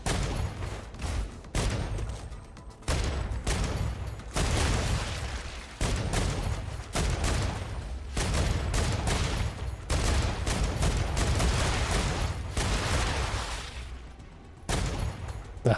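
Enemy gunfire from strafing attackers in the sci-fi game StarRupture, dense rapid bursts crackling almost nonstop, loud and close, with brief gaps between volleys.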